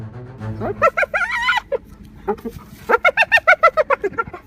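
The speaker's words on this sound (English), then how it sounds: "hyenas, one thing many people probably think of is the sounds they make that almost resemble laughter" A rapid series of high, giggling whoops and chattering yelps, rising and falling in quick bursts, loud and close, like animal laughter.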